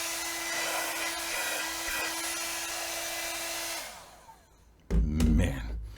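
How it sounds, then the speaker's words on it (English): A Xiaomi Mijia Water Ion hair dryer runs on setting 2 with a loud, steady rushing blast and a thin motor whine for several seconds. It then winds down and cuts off, followed by a few close handling bumps. "it's a very powerful blower"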